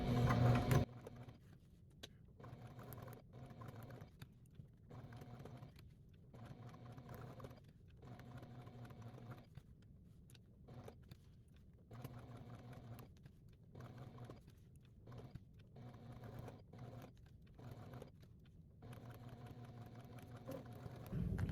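A sewing machine stitches a quilted design on a bag panel with a steady mechanical whir that runs in short stop-start stretches throughout, close and fairly quiet.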